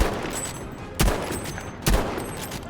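Two sharp, loud sniper rifle shots from Battlefield V ring out about a second apart, each with a short echoing tail over low battlefield ambience.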